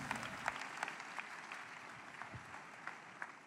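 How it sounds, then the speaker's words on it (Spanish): A church congregation applauds steadily, a dense wash of many hands clapping at moderate distance, with scattered sharper claps standing out and no voices on top. "Demos un fuerte aplauso una vez más a nuestro Señor y Salvador Jesucristo"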